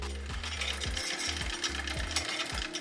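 A SRAM GX Eagle AXS wireless bike drivetrain with poor indexing makes a rapid, rhythmic mechanical ticking and grinding as the chain turns. The repeated clicks are close and fairly loud, with no talk.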